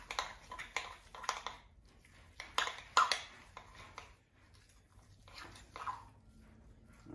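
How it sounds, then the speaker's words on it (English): A spoon stirring thick, clean cookie dough in a bowl, giving soft, sticky squelching strokes in irregular bursts with short pauses, close and fairly quiet. "Now it'll take about 30 seconds or so of stirring"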